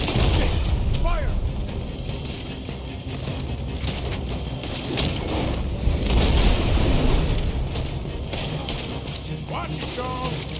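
Shootout gunfire in the Western video game Red Dead Redemption, dense booming shots and rumbling blasts overlapping continuously, with voices shouting throughout.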